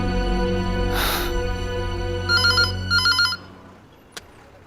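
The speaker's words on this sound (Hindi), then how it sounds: "कम ऑन सोनाक्षी, अब तुम मेरा फोन भी नहीं उठाओगी।" A phone rings with a loud electronic ringtone, a patterned chiming melody in repeated bursts that stops abruptly, followed by a short click, with no talk over it.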